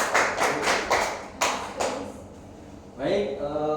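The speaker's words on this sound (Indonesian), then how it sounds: "Harus tepuk tangan dulu buat teman-teman." Classroom of students clapping for their classmates during a microteaching lesson, a few sharp claps and taps in short bursts, fairly close, with brief voices near the end.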